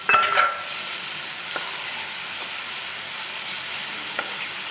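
Tomato paste and spices fry in hot oil in a pan for a prawn malai curry, giving a steady, close sizzle throughout, with a brief louder clatter at the very start.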